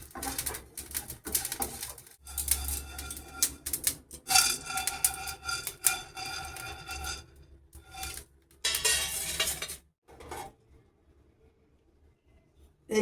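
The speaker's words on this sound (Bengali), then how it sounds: "শুকনো খোলায় ভেজে নিচ্ছি জিরে, গোলমরিচ আর তেজপাতা।" Cumin, black pepper and bay leaves are dry-roasted in a pan, with bursts of scraping, rattling and rubbing as they are stirred. The sound stops near the end.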